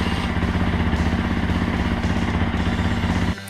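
A motorcycle engine starts up after an oil change and runs at a steady, loud idle with continuous mechanical clatter, cutting off abruptly near the end.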